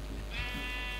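Sheep bleating in the Minecraft video game, a single short wavering bleat in the middle of one second of steady game background.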